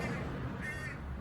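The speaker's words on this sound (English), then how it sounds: "I can't see the bird up in the tree, but it's up there. I can hear him." A bird calling from up in a tree, heard outdoors as a steady series of honking, goose-like calls, fairly faint over a constant background hiss.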